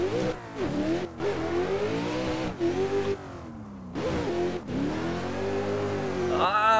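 Kevin Stump's Nissan 400Z VDC competition car accelerating hard through the gears, its engine note climbing loud and close between sharp gearshift dips, with a brief lull before it pulls again.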